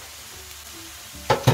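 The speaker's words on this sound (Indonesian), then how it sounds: "Jadi 3 siung bawang putih, tambah di situ, diaduk-aduk, ditumis-tumis." Crushed garlic, three cloves, being stirred and sautéed in a pan for a homemade ragù sauce, with quiet low sizzling that gives way to two louder bursts of frying and stirring near the end.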